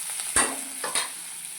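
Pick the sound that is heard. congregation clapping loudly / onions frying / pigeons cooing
onions frying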